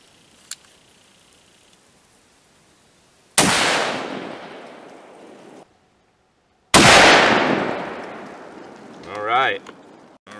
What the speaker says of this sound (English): And last shot here.